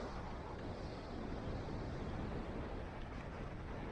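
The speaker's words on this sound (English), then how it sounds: "And a noisy sea." Stormy sea off São Miguel in the Azores, near Ribeira Grande, with broad continuous surf and wave roar mixed with wind rumble, steady and loud throughout, no voices.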